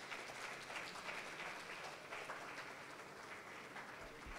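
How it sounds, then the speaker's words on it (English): Conference audience at a panel session applauding a panelist, a steady wash of many hands clapping, fairly distant and faint, sustained evenly throughout. "So please let's give him a round of applause."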